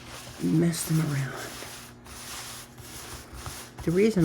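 A large oracle deck of about 137 cards is mixed by hand on a surface, giving soft rubbing and sliding shuffles in the quiet gap between bits of close talking.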